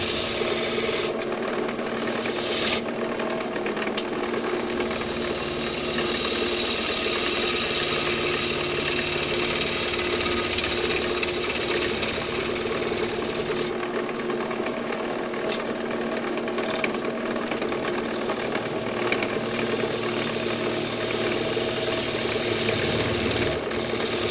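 Wood spinning on a lathe as the tool peels off clean shavings, giving a sustained, close whirring hum with a scraping hiss that swells and eases as the cut comes and goes, with no talk.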